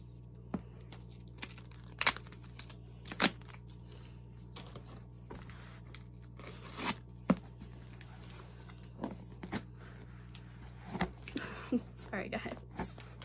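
Tape being cut and peeled off a yarn swap package, giving irregular crinkling, tearing and crunching bursts close by, scattered across the span over a steady low hum, with a person talking at times.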